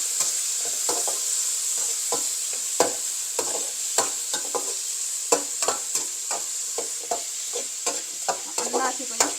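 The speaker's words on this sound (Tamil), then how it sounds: "அன்னாசி கொஞ்சம் நல்லா ஃப்ரை ஆகணும்." Pineapple and garlic fry in a pan for pineapple fried rice, a steady hiss of sizzling broken by frequent clinks and scrapes of a spatula stirring, close up and with no voices.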